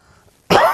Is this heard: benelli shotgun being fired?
no